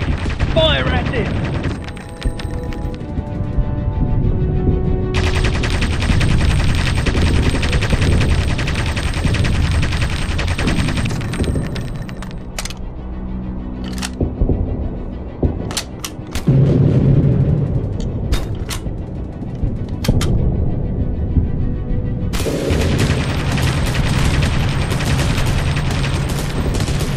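Bursts of rapid gunfire aimed at an enemy aircraft in the video game Aviators, with loud, sustained machine-gun volleys, several sharp isolated shots and brief gaps between strings of fire.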